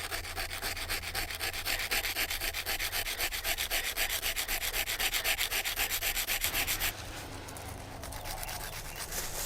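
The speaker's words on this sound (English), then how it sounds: "I'm going to rub it against the sandstone, and hopefully we can get a sharp point out of it." Copper wire scraped back and forth on sandstone to grind a sharp point, outdoors for survival fishing; a fast, steady rasping rhythm of close strokes that shifts to a smoother, slightly quieter grind near the end.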